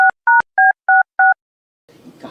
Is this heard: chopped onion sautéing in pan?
no